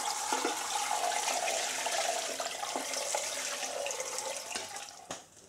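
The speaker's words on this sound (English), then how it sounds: "And now we are just going to strain it" Hot woad dye liquid pours and splashes steadily through a colander into a container, a close, continuous rushing stream of water that tapers off at the end with a few drips.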